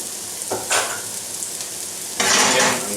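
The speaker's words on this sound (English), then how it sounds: "I'm just going to add the rest of our onions." Onions dropped into a pan preheated with olive oil, giving sudden bursts of loud sizzling that settle into a steady hiss, close by, with no talk.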